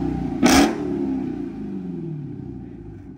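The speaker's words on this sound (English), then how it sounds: "you heard the little exhaust clip. That's the before of the exhaust before I straight pipe it." A Dodge Challenger Hellcat with its stock exhaust revs once in a loud, close burst, and the deep rumble then fades away as the engine settles back. There is no talking.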